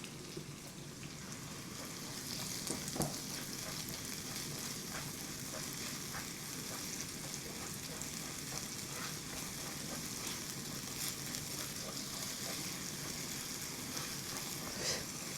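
Green onions sizzle and fry in a thick wok, a steady close hiss with scattered crackles and pops running throughout without talk.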